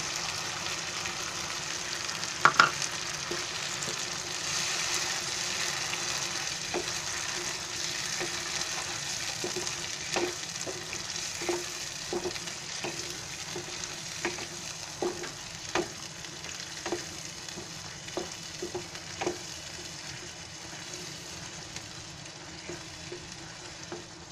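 An onion, coconut and mint gravy for Konkani-style chicken curry fries steadily in a pan, its constant sizzle marked by soft, regular stirring taps and scrapes.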